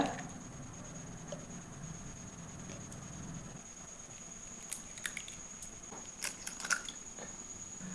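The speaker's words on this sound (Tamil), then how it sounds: "அது கூட ஒரு 3 முட்டையை உடச்சி ஊற்றிக்கலாங்க" Three eggs are cracked and poured into a bowl for an egg pudding, giving a handful of sharp clicks and taps near the end against a quiet, steady background.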